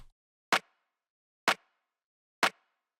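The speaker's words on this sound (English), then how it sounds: "Really snappy clap" A snappy clap drum sample for minimal house strikes three times at even one-second intervals, each hit short, bright and dry, with silence between and no talking.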